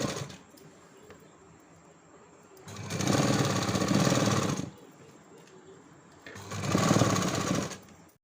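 A sewing machine stitches a blouse in two bursts of a few seconds each, loud and close, with quiet gaps between them.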